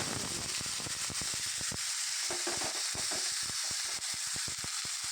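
Black cumin seeds frying in hot oil, giving a steady close sizzle and hiss with rapid crackling pops scattered through, and no talking.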